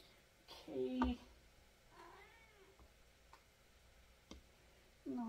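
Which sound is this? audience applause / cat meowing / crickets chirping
cat meowing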